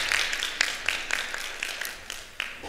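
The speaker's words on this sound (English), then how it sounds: "So another round of applause." An audience at a university undergraduate research poster symposium gives a round of applause: dense, fairly close clapping with sharper individual claps standing out, continuing steadily throughout.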